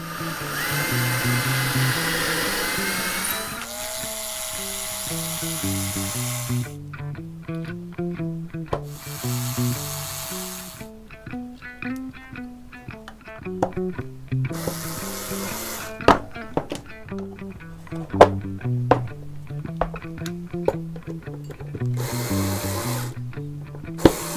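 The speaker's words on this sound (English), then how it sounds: "I'm going to drill down straight through to create the pre-drilled holes for the mounting screws" A power drill whines in repeated bursts, its pitch rising and falling as it bores pilot holes for pickup mounting screws in a cigar box guitar, with short pauses between runs and no talking.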